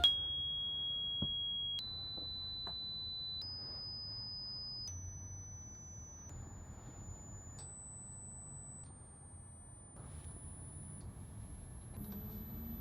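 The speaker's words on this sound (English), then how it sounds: "here's 3300 hertz." A steady 3300 Hz sine test tone plays through a Pioneer PT-103F tweeter, then steps upward to higher pitches every second or so, each tone clean and continuous over a faint low background rumble.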